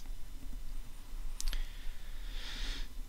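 A couple of faint, quick computer mouse clicks while working in Lightwave 3D software, close but quiet over a steady background hum.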